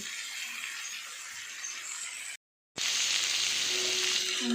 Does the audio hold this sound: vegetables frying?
yes